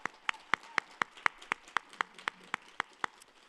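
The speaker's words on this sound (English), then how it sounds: "I think we should just give her a round of applause." Evenly spaced claps ring out at a brisk, steady rhythm, about fourteen crisp strikes in a few seconds, sounding like a small audience applauding at an art event.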